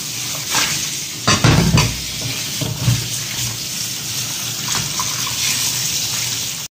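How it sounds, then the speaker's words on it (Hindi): Fish are rinsed in a basket under an open running tap, water gushing and splashing steadily with a few louder sloshes as the fish are stirred and turned by hand. "अब इसको टोकरी में डाल के उसी पानी खुला खोल के धो लेते हैं।"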